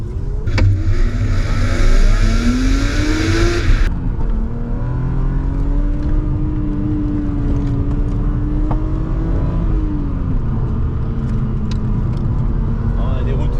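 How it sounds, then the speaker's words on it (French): BMW M3 E36 six-cylinder engine pulling hard under acceleration from inside the car, a steady rising drone with gear changes, loud and close throughout, with a burst of broadband noise early on. "on va mettre un petit peu de rythme, histoire d'entendre le 6 cylindres"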